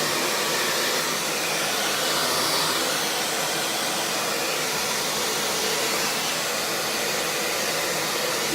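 A handheld hair dryer blows steadily and loudly at close range while wet hair is being blow-dried in sections, a continuous even rush of air with no talking.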